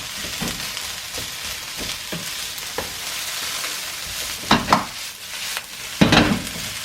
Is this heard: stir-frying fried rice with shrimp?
yes